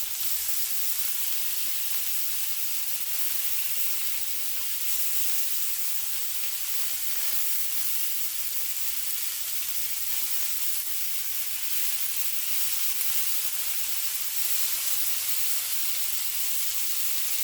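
Steady, continuous sizzling hiss of Liberian-style roasted meat charring on a grill, even and unbroken throughout, with no voices.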